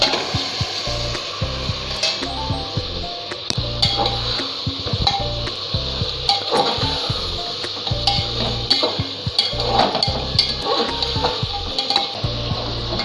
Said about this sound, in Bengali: মাংসটা নেড়ে নিই।